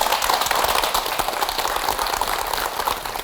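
An audience applauding to welcome a specialist doctor to give a lecture on joint health, dense continuous clapping throughout, fairly loud and close, fading slightly at the end.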